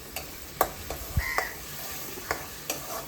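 Kharda chicken sautéing in a pan gives a quiet background sizzle broken by several sharp spoon scrapes and taps on the pan, close and intermittent, with no talking.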